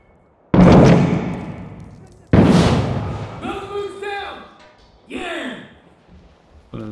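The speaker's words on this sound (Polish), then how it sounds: "Wybuch granat?" Two heavy booming grenade explosions in a video game hit close and loud, each decaying over about a second and a half, followed by quieter rumbles while a voice talks.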